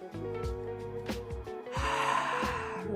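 A person in a yoga squat takes a deep breath, with a couple of short nasal sniffs followed by a longer, airy inhale, soft and close over quiet steady background music.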